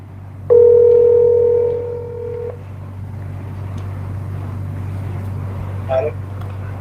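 A telephone dial tone sounds loud and steady for about two seconds as a caller is rung back, followed by a low hum of line noise and a brief electronic blip near the end.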